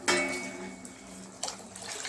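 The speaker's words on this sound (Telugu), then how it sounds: "ఇంకా చూడండి, రైస్లో వాటర్ యాడ్ చేస్తున్నాను." Water is poured into rice in a cooking pot for Telangana-style bagara rice, giving a close splash and pouring sound with a light metallic clink, then a second pour toward the end.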